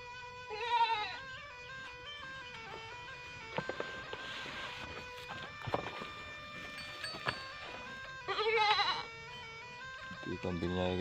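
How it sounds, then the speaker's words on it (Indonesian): Goats kept on a farm at a simple house among rice fields near a forest bleat loudly several times, close by, with quieter rustling and background noise between the calls. "Ini kondisi kambingnya sangat gemuk."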